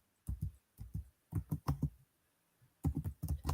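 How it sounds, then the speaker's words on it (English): Typing on a computer keyboard in the background, heard as quick bursts of soft clicking keystrokes separated by short pauses, fairly faint, with no talking. "Can you hear the typing in the background"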